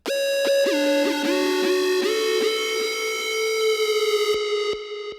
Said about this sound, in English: here's what that sounds like without the filter